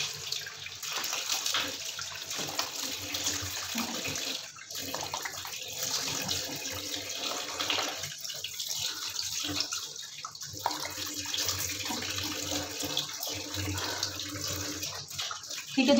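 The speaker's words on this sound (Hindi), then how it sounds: "ये देखें और मैं फेस वॉश करूँगी एक दफ़ा," Tap water runs steadily into a sink during face washing with a Hemani herbal foaming face wash, a continuous close hiss and splash with small shifts in flow and no talk.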